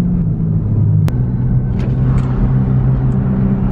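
A Nissan R35 GTR rolling on new wheels gives a steady, loud low drone of tire and road noise inside the cabin, with a brief sharp click partway through.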